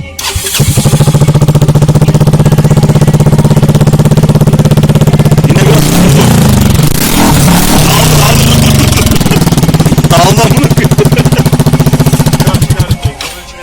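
A motorcycle fitted with an SC Project exhaust, its muffler stuffed with paper, starts up and runs loud and close, holding a steady throbbing idle with a rougher burst of revving midway before settling again.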